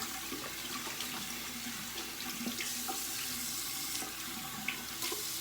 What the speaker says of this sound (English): All right, rinse my hands off here real quick.